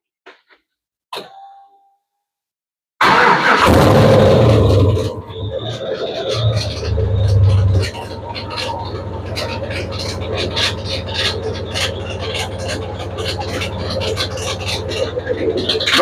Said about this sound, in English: That's the idler pulley that needs to get adjusted.